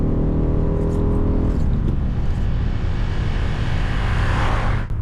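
A 1988 Mitsubishi Galant Sapporo engine runs steadily, a smooth low hum close by. A deeper, rougher rumble that sounds like a passing vehicle builds over it, with no talking.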